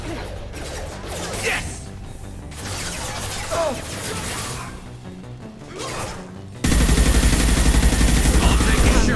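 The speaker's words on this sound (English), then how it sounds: "Firing a high-impact shot" Weapon shots and bursts of gunfire ring out in the Mass Effect sci-fi shooter, with whooshes and crashes amid combat, then a loud sustained barrage; a voice shouts briefly.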